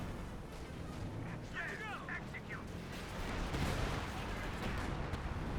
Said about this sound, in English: We do got a barrage coming in from the Panzer Commander